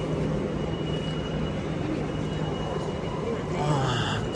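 A large station served by high-speed trains fills with a low, steady rumble of rail traffic and wide hall noise, heard from a distance, with a faint announcement-like tone near the end.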